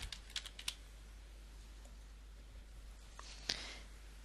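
Faint computer keyboard typing, a quick burst of several keystrokes at the start followed by a few isolated clicks, over a low steady hum.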